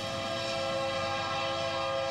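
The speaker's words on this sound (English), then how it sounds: "freight trains move millions of pounds of cargo from southern ports to the entire United States" A freight train carrying cargo in California rolls past with a steady, sustained tonal drone like a horn or rumbling engine, constant and fairly loud throughout with no voices.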